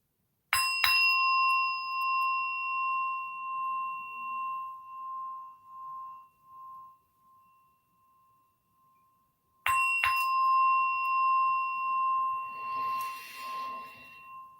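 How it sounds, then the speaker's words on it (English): A single bell struck at a Sunday celebration service rings out clearly and decays slowly over several seconds, then is struck a second time, its tone sustaining alone with faint background rustle. "I'm going to ring in this bell"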